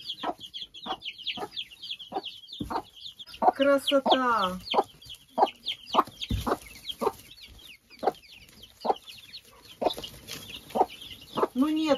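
Hens and their chicks cluck and peep nearby in a busy, uneven chatter, with a few louder calls and someone talking briefly over them.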